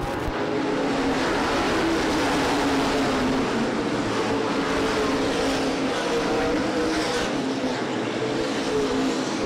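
Modified stock cars at Winchester Speedway roar back up to speed after a restart, a dense, steady engine drone that stays loud and continuous throughout with no pauses.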